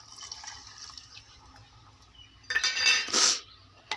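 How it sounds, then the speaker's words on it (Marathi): A plateful of water poured into a coconut amti curry pot, a brief splashing burst near the end following quieter kitchen clatter, with a faint clink of utensils. "बघू शकता मी एक प्लेट पाणी घालत आहे"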